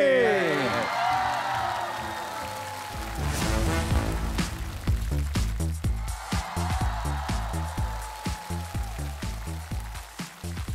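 Studio audience applause rings out on the stage of a Chinese TV variety show as guests are welcomed, the crowd's clapping and cheering mixed into loud, rhythmic stage music that runs throughout.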